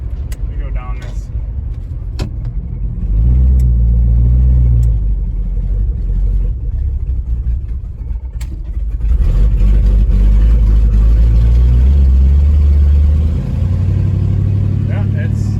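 A 1984 El Camino with a swapped 4.8 LS V8 and a faulty crank or speed sensor runs roughly, its deep engine rumble surging and stumbling unevenly, with occasional clicks and people talking nearby.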